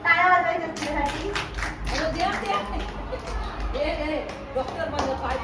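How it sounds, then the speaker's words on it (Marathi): Audience applause at an Independence Day prize-giving as a girl is awarded for playing a doctor: steady clapping from a crowd fills the room, mixed with chatter and a voice talking over it. "टाळ्या वाजवायच्या तिच्यासाठी"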